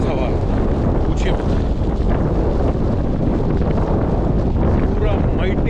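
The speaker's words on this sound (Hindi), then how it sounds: "फुल फोर्स विंड का हमारे ऊपर आ रहा है, बारिश भी आ रही है" Strong wind blasting across the microphone in Iceland's Westfjords with rain, a loud, continuous roaring buffet that holds steady throughout with no pauses.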